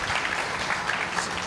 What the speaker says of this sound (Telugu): మీరు గట్టిగా ఒకసారి చప్పట్లు కొడుతూ వారిని